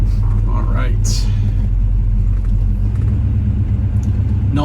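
Steady low engine rumble from a 1968 Chevrolet El Camino with a 396 on a test drive, heard continuously from inside the car, with a brief higher whine partway through.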